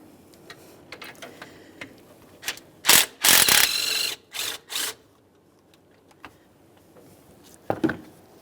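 A ratchet loosens the upper alternator mounting nut on a 2015-2020 Ford F-150 3.5L V6, giving several close, loud bursts of rapid clicking separated by pauses, plus a few faint metallic taps.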